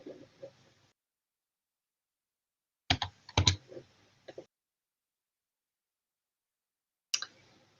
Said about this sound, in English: let's get our calculator out so we can show typing this in